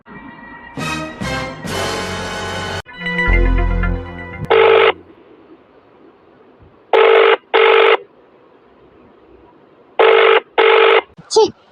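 A telephone rings in repeated pairs of electronic bursts with pauses between them, going unanswered, after some earlier talk and noise.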